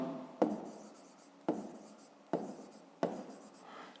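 Handwriting on paper gives four distinct scratchy stroke bursts, each starting with a sharp tap and fading out, close and quiet in an otherwise silent room.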